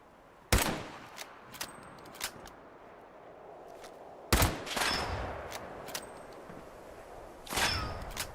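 Pipe weapon gunfire in Fallout 76: three sharp, fairly distant-sounding shot bursts spaced a few seconds apart, each followed by short clicks and rattles, over a low ambient background with no talk.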